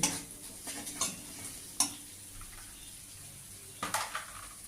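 A spoon stirring turmeric into spice paste frying in a pan for a vegetarian soybean and chickpea dal, a soft sizzle underneath with a few sharp scraping strokes against the pan.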